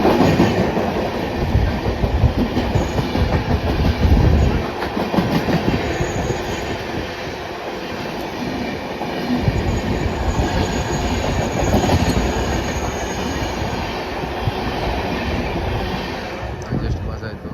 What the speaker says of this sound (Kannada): ಯಾವುದೋ ಒಂದು ಎದುರುಗಡೆ ಒಂದು ಟ್ರೈನ್ ಬರ್ತಾ ಇದೆ ರೀ